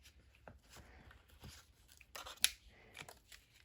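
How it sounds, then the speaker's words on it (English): Material strip ripped off while assembling a handmade booklet with elastic closure: soft crinkling and tearing handling noises, close and quiet, with one sharp brief rip standing out near the end. "I'm going to now rip this off."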